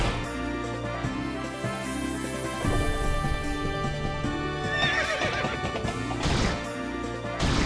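A horse neighs in the video game Turovero: The Celestial Tower, a whinny layered over dense, loud game music with some clip-clop, steady throughout with no talk.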